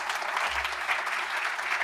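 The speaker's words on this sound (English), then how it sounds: "let's give a round of applause to this great panel" Audience applause for an energy-outlook panel at a conference, a dense steady wash of many hands clapping throughout, moderately loud with no voices.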